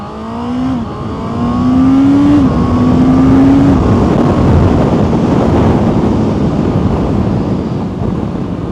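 Honda CBR650R E-Clutch sport motorcycle launching under launch control, its engine note climbing in rising steps through quick upshifts, loud and close, then settling into steady wind rush as speed builds.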